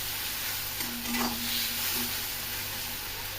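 Onions frying in oil, stirred in the pan with a brief scrape of the utensil over a constant gentle sizzle, quiet and close.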